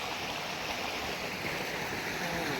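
Waterfall pouring over rocks at a forest site in Nayagarh, a steady, dense rush of falling water that fills the whole clip at an even level, with no voices heard.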